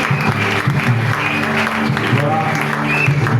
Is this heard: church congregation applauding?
yes